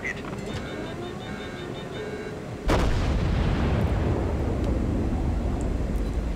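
Battleship gunfire in a naval video game, with shells striking the Colorado: a brief humming lead-in, then one sharp, heavy boom that rolls into a loud, lingering rumble, close and dominant.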